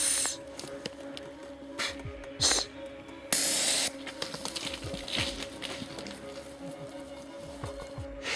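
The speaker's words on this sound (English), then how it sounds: "When the spray was released, it created an instant barrier between the hunters and the charging bear." Bear spray discharged toward a charging bear during a bow hunting encounter in a forest: faint hissing bursts, with one louder, longer blast partway through, then quieter spurts.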